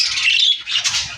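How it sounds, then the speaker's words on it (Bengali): A short, close bird call sounds twice in quick succession, bright and raspy, from a pair of caged doves, a spotted dove and an Australian brown dove. "দুই জাতের দুইটা ঘুঘু পাখি আমি একসাথে জোড়া দিয়েছি"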